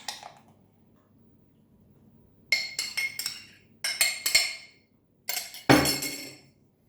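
Waffle batter with melted butter and eggs stirred in a bowl, heard as bursts of quick clinking strokes of a utensil against the bowl after a quiet start, close and crisp.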